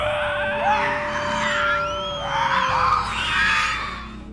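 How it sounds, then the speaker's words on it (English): Harsh, animalistic creature screams blending Nosferatu cries with Tasmanian devil screeches, rising and falling in several loud, piercing wails with squealing pitch sweeps over a low rumble. "The screams of the Nosferatu were also interspliced with that of the Tasmanian Devil to create a harsh, animalistic sound"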